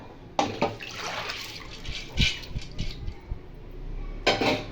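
Washed red lentils and water tipped into a kadai in a home kitchen, a short splashing pour followed by clinks and knocks of utensils against the metal pan, then a second brief splash near the end.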